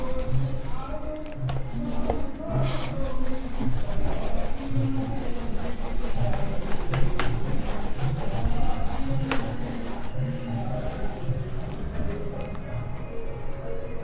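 In a physics classroom lecture, something rubs back and forth to erase writing on a board. The scrubbing strokes are rhythmic and fairly loud, with occasional soft voice sounds in the background.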